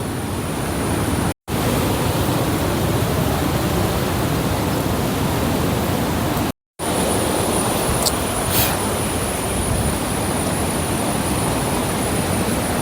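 Water rushing at Adyanpara waterfall in Kerala, a loud, steady broadband roar that stays constant and close, with two brief dropouts and no voices.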